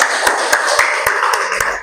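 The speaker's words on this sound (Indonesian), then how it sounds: "Tepuk tangan" Students in an Indonesian classroom during an Islamic cultural history lesson clap their hands together, a dense, steady burst of close clapping with a few sharper individual claps standing out.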